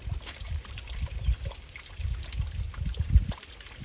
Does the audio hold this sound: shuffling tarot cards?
no